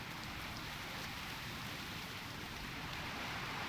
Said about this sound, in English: it sounds like a real rain,